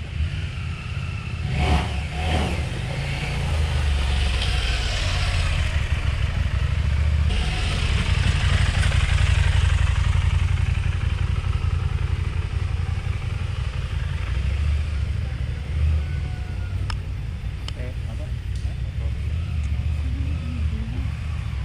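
Dual sport motorcycle engine rumbling and revving in bursts throughout, loud and close, with a steady low drone between throttle blips and no talking.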